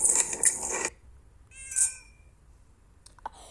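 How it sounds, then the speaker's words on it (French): A house cat meows close by, one clear rising cry in the middle after some brief clattering, then the room falls quiet. "il y a un chat qui me crie dessus"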